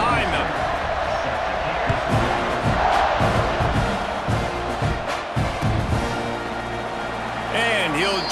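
Stadium crowd in EA Sports College Football 26 roars steadily throughout, a dense wall of cheering with commentary voices running over it and brief bursts near the end.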